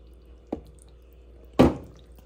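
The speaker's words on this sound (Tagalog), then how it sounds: "Lagyan po natin ng cream." Cream is poured into a macaroni corn salad with condensed milk, heard as two short, close wet plops, the second heavier, over a quiet background.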